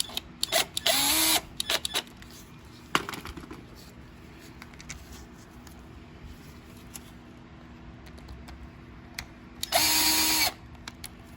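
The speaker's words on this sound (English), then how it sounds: "I'm using a drill here." A low-torque cordless drill drives screws into a plastic part of a 2018 Murray by MTD lawn mower with a Briggs & Stratton engine, two short whirring bursts at the start and end with quiet handling clicks between.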